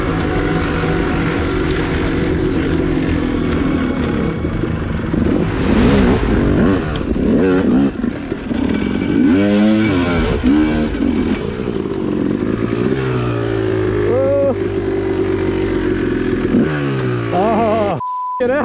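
Yamaha YZ dirt bike engine revving hard and close, loud and continuous, with repeated rising and falling throttle sweeps and sharp blips, ending in a sudden cutoff followed by a short beep.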